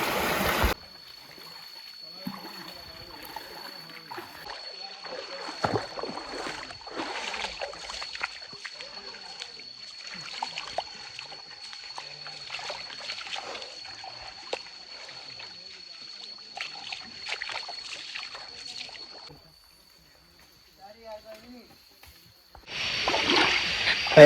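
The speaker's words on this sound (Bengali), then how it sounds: "ঝর্ণার শব্দ শুনতে পাচ্ছেন আপনারা" Ham Ham waterfall rushing in forest after a long trek, a steady wash of falling water heard from a distance under people's talk, quieting for a moment before surging back loud at the end.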